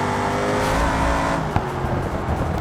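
Loud, close engine roar of a car accelerating hard along a straight in a BeamNG time trial, a steady rising drone with a brief knock partway through, no talking.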